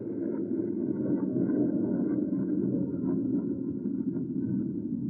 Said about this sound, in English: The road. The road is stopping.